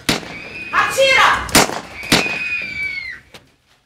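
Gunshots in a tense drama scene: two sharp, loud reports about half a second apart, with shouting voices before and around them.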